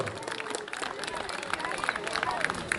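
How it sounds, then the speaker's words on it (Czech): Crowd applause and clapping at a knightly tournament, honoring the day's winner; steady dense clapping mixed with crowd murmur throughout, moderately loud and continuous. "Potlesk pro vítěze turnaje dnešního"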